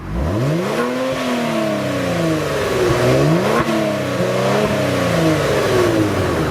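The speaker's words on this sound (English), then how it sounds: "how the Stinger GT sounds when it revs up, well, take a listen" A 2018 Kia Stinger GT engine revs repeatedly, its pitch sweeping up and down in loud, close bursts with a steady throaty drone between them.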